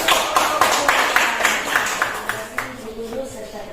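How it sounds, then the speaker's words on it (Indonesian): Classroom applause for a student group's presentation, a scattering of claps in an uneven patter with some talk mixed in. "Beri tepuk tangan."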